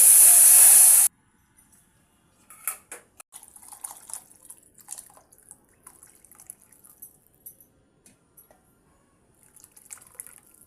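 A hot spice tempering of cumin, garlic and turmeric poured into a lentil water soup, opening with a brief loud hiss that drops away into faint scattered bubbling and drips.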